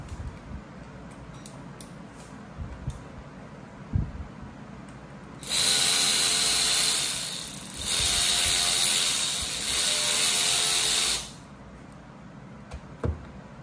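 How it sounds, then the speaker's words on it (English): A clamp being tightened on a Sea-Doo personal watercraft's carbon seal, heard as a long, loud, steady whirring power tool burst of about six seconds, briefly dipping midway, with light clicks before and after. "I'm going to go ahead and tighten down this clamp for the top part of the carbon seal"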